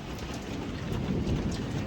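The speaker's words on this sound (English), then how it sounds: "it is thundering and lightning." Heavy rain pours steadily on a rural farm during a thunderstorm, with low thunder rumbling beneath the dense hiss of falling water; no one speaks.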